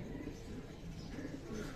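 A 7-to-8-year-old UAE Teddy pigeon, a high-flying breed, gives soft, low, repeated coos at close range over faint background noise.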